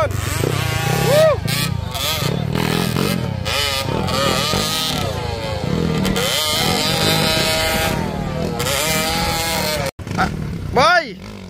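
A misfiring motorcycle engine revs hard and repeatedly during an RFS Onslaught race leg, its pitch climbing and falling in surges as spectators shout excitedly over it nearby.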